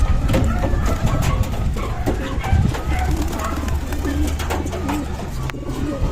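Pigeons coo steadily inside a loft on a hot day, a dense, close chorus of low throaty calls layered over one another, with a person talking over them.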